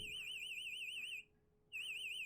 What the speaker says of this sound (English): my house alarm is going off at my house